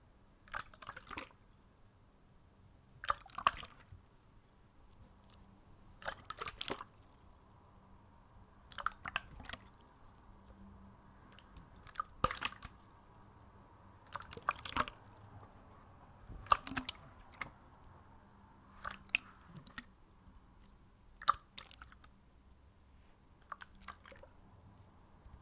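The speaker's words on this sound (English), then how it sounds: "How many times did you hear the water move around in the bottle?" Water sloshing inside a bottle in a quiet setting, about ten short separate swishes spaced at a fairly even rhythm, close and soft with silence between them.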